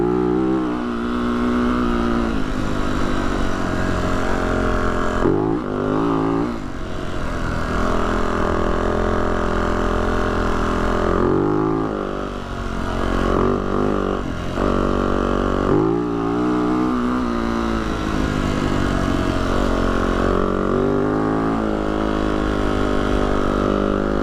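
A dirt bike engine idles steadily and loudly up close on a mountain trail in Yellow Fork Canyon near Butterfield Peak, Herriman, Utah, with occasional small revs breaking the continuous hum.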